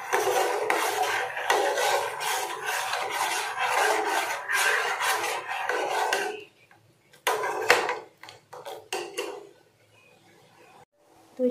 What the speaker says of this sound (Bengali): চিনিটা যতক্ষণ না দুধটাকে গলে যাচ্ছে ততক্ষণ কিন্তু এটাকে আমি নাড়াতে থাকবো।